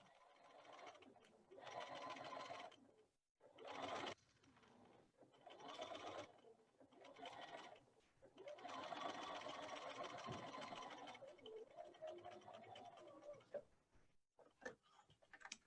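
A quiet home sewing machine stitches a seam on a tea time placemat, soft rapid mechanical ticking in several short bursts separated by brief pauses, close by with no talk.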